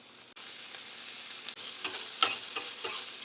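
Grated coconut frying in a pan for radish chutney, a steady bright sizzle at close range broken by a few stirring scrapes and small pops, with no voices.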